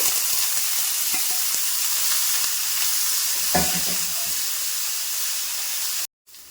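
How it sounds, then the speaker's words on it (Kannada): Boiled broccoli tossed into a hot pan with garlic keeps up a steady close sizzle and hiss of frying, with a few soft scrapes and clacks of stirring, before the sound cuts off abruptly near the end. "ನೆಕ್ಸ್ಟ್ ಇದಕ್ಕೆ ಬೇಯಿಸಿಟ್ಕೊಂಡಿರುವಂತಹ ಬ್ರೋಕ್ಲಿನೂ ಹಾಕ್ತಾ ಇದ್ದೀನಿ"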